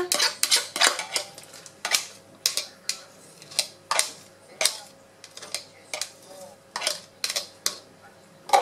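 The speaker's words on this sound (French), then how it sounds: "je remélange les œufs et l'huile" A fork beats eggs and oil in a bowl with a run of sharp metallic clinks and taps. The strokes land about once or twice a second at a slightly uneven pace, close by, with no voices.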